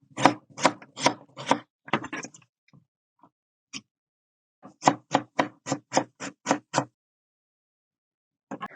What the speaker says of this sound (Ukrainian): А зараз для нього нам потрібно нарізати цибулю і трохи зелені.